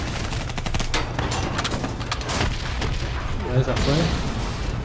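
Steady gunfire and heavy blasts from Call of Duty: Black Ops III rumble throughout, with deep booms near the end, while a voice speaks briefly over the din.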